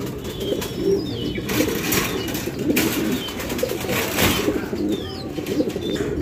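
A pair of fancy pigeons, a male and female from a pigeon collection, give soft coos and a few chirps, with brief wing flutters, over a steady background of noise.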